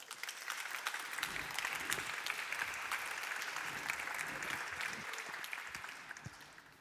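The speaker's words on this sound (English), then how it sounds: "Give her a warm round of applause." Audience applause at a Partnering for Change 2022 event as the Rwandan ambassador is welcomed to the stage, a dense, sustained round of many hands clapping at even loudness for several seconds without talk.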